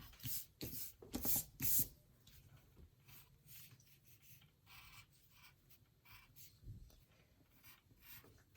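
A pencil drawing of Godzilla's teeth being erased, with soft, quiet rubbing strokes in short scratchy bursts, a few stronger swipes first and then lighter, fainter scrubbing.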